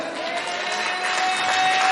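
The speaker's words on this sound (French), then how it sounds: "Donne-moi une bonne acclamation pour le Seigneur." A church congregation applauds and acclaims the Lord after prayer, a steady dense wash of clapping and voices holding at an even level throughout.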